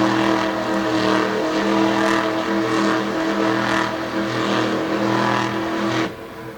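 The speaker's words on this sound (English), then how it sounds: "she would then throw the truck into a cyclone and smoke the tires up in turn number 4" A monster truck's engine roars at a steady high pitch as it spins in a cyclone and smokes its tires on a turn at Lake Erie Speedway, loud and sustained before dropping off abruptly near the end.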